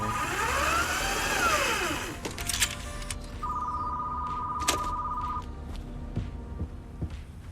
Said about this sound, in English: Oh, phone ringing.